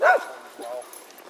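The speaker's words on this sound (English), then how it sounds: "At least he's got the dog on a leash, it looks like." A dog on a leash on a hiking trail lets out one loud, close yip-like bark followed by a softer whimper, with a person's voice talking over it.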